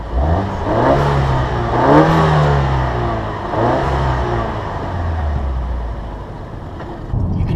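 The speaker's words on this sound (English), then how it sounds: "I kind of gave it a little gas and let off, and you can hear the blow-off valve" A 2015 Ford Escape Titanium turbocharged engine on an uphill ramp, revving briefly and letting off, with whooshing blow-off valve releases and rising and falling engine whir heard from inside the car, loud and close.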